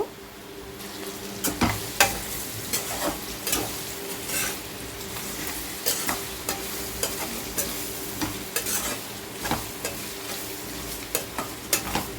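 Ginger garlic paste is stirred into a potato and broad bean curry frying in a pan, with steady low sizzling under repeated scraping stir strokes throughout, and no talking.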